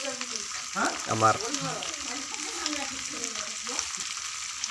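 Cumin seeds frying in a pan with a little ginger and garlic, a soft steady sizzle running throughout with a few louder bursts early on, while a person talks over it.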